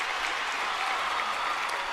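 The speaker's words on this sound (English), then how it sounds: "Round of applause for Dave" Loud, dense applause from an audience at a live music-making party, a continuous close wash of many hands clapping that stays even and unbroken throughout, with no talking.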